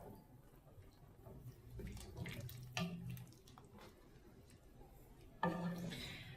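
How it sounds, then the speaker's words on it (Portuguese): Water runs from a tap into a pot to cover food during home cooking, a steady splashing stream with a couple of brief clunks, close and fairly loud. "Água para cobrir."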